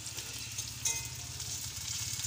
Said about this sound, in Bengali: তেলটাকে গরম করে নিয়ে আমি এর মধ্যে পেঁয়াজ দিয়ে দিয়েছি, এবং তার সাথে সাথে পেঁয়াজটাকে একটু ভাজা ভাজা করে নিচ্ছি